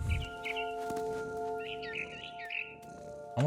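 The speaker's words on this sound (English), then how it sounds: "Then I heard chirping outside my window. It was a barn swallow going back to her nest." A barn swallow in the video game What Remains of Edith Finch chirps in quick high twittering bursts, fairly near, over a steady low electronic hum.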